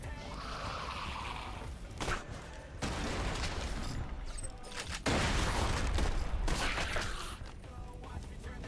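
Explosions and gunfire in the video game Borderlands 2, a DLC campaign: repeated loud, sharp blasts and rattling volleys come in bursts with brief lulls, forming a chaotic, continuous battle din.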